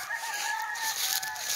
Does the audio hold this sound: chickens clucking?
yes